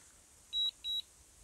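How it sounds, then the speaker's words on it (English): Drone remote controller beeping after losing signal: two short, clear electronic beeps in quick succession over a quiet background. "there is no way to disable the beeping sound. It comes from the remote, not the cell phone."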